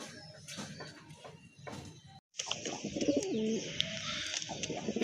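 Madrasi pigeons, light blue with fine markings, give repeated low coos close by, joined by other birds' calls and some background noise after a short break.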